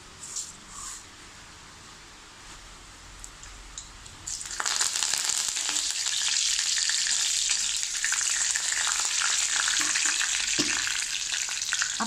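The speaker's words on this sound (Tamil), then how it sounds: "எண்ணெய் சூடாயிடுச்சு, கொஞ்சம் கடுகு போடுறேன்." Mustard seeds dropped into hot oil for tempering while making a yam fry, starting quietly with light kitchen sounds and then bursting into a loud, steady crackling sizzle that continues to the end.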